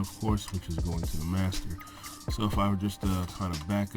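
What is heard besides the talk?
None of the usual background noises is heard.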